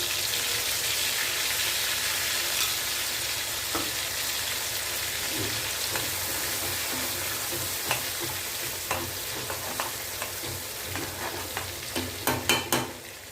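Taro root chips deep frying in oil, a continuous crackling sizzle with stirring, and clinks and scrapes growing louder toward the end.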